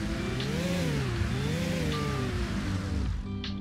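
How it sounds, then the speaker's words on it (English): Simulated vehicle engine from the Arma Reforger game revving up and down in smooth, rising and falling sweeps, loud and steady throughout with no talking. "Let's preview the engine sound and use the valrt slider to simulate a change"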